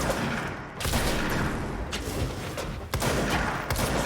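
Shotgun blasts in the action game Control, a dense run of loud booming shots with brief gaps between volleys, set against continuous combat noise.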